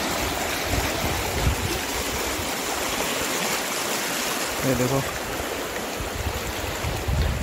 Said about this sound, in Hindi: इसी नदी क्रॉस करनी पड़ रही है, इतना ज़्यादा तो फ्लो लग रहा है ना, बहुत ज़्यादा।